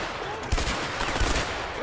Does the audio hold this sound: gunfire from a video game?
yes